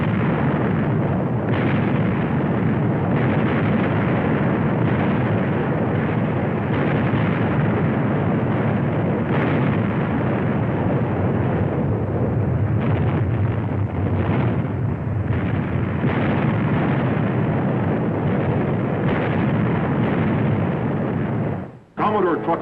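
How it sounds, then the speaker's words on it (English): Naval cannon broadsides in a sea battle between the frigate Constellation and the heavier-gunned Vengeance in 1800, heard as a continuous loud rumble of booming fire and blasts that runs without a break and cuts off sharply near the end. "For 5 hours, she exchanged broadsides with the heavier gunned Vengeance."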